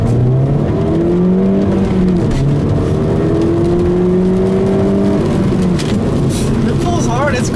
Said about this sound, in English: I'll leave you guys with a nice little acceleration here